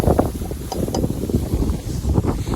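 Cold winter wind gusts steadily across an open rural setting in northeast Thailand, a loud continuous buffeting rush with microphone rumble and a few faint clinks, no talking.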